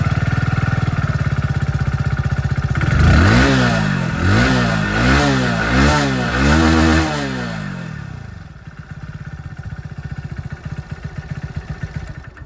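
A 2026 Hero Splendor Plus E85 flex-fuel motorcycle's exhaust: a steady idle, then several quick throttle blips revving up and dropping back, settling into a lumpy, pulsing idle, close and loud.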